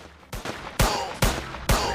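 A small gun fires at aliens in four sharp, loud bursts spaced roughly half a second apart, each with a punchy low thump and a bright crackling tail, with no talking.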